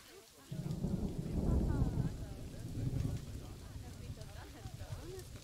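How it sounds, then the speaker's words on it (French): Rain and thunder in the game Planet Zoo, a heavy rumble of thunder swelling early and then easing under continuous rainfall, with someone talking briefly over the storm. "Oh, la pluie est vraiment bien faite."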